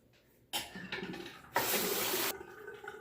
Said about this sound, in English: I was letting some water out of the sink there too while I was rinsing.